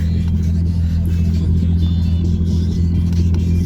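A car engine rumbles and hums at close range as the vehicle pulls away and drives off, a low steady drone with slight revving, while someone talks over it.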